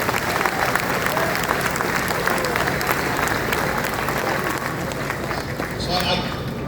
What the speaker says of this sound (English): So CAG 2, round of applause,